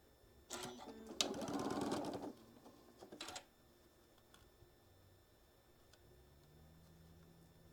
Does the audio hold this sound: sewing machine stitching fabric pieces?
yes